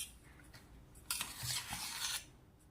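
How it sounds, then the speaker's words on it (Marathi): Steamed coconut laddu mixture being stirred and mixed after cooking in a pressure cooker, with a burst of scraping, clattering utensil noise for about a second, fairly close and without talk. "मिश्रणाला छान मिक्स करून घेऊया परत एकदा।"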